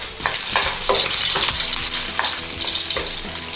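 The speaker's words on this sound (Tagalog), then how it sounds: "lagyan na rin natin yung bawang na buo, yung may balat pa. Prito muna natin." Whole unpeeled garlic cloves fry in hot cooking oil, giving a steady, close sizzle with stirring and clinks from a utensil in the pan throughout, with no voices.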